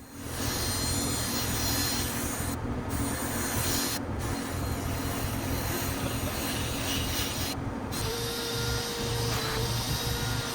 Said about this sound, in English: I deep clean the carpets by first foaming them up and then using a drill brush.